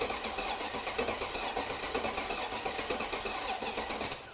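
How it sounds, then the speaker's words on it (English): A Mercedes CL55 AMG that sat for seven years cranks over steadily on its starter, a rapid even pulsing churn that runs for about four seconds without catching, close and fairly loud. "It's cranking."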